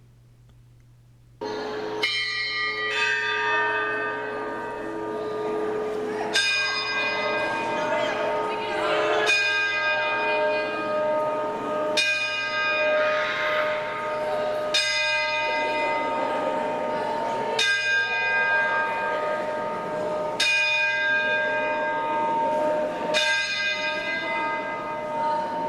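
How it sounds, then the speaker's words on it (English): Bells of Burgos Cathedral in northern Spain ring out steadily on a Sunday, a series of loud, resonant strikes at regular intervals with long ringing overtones, heard indoors over faint background murmur. "Listen to the bells."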